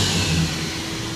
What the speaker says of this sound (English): Wait for the blade to stop